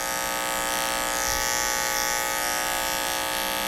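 Electric hair clippers hum steadily and close up while cutting hair during a skin fade, a continuous buzzing drone with no talk over it.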